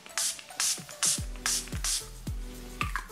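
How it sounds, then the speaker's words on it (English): Five or six short hissing bursts of Urban Decay All-Nighter makeup setting spray in quick succession, close and fairly loud, with faint clicks and a low hum between them. "give myself a quick bath in Urban Decay All-Nighter Setting"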